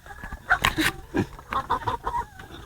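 Dominant CZ hens ready to lay eggs cluck on a farm in Batangas, giving close, repeated short calls in irregular bursts with faint background noise.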